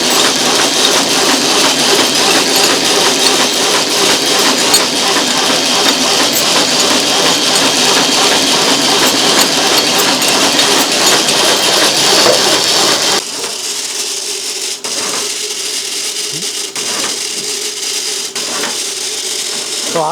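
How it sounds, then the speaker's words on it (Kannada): Automatic incense stick making machine running, a loud, dense mechanical whir and clatter that drops abruptly to a lighter rattle with sharp periodic clicks partway through. "ಇನ್ನು ಮಷಿನ್ ನಾವು ಸ್ಟಾರ್ಟ್ ಮಾಡಿದ್ವಿ ಅಂದ್ರೆ ಸರ್ ಇದು ಆಟೋಮೆಟಿಕ್ ಆಗಿ ಕಡ್ಡಿ ತಗೋತೀವಿ ಸರ್"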